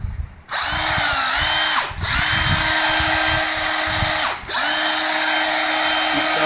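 A power drill running from a switching-mode power supply in a home workshop, whirring loudly and steadily at close range, with two brief dips as the trigger is released and squeezed again.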